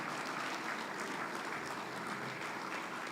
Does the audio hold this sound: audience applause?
yes